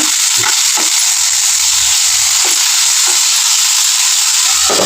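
Food frying in a pan after salt is stirred in gives a loud, steady sizzle with a constant bright hiss, broken by a few softer dips and small crackles, with no voices.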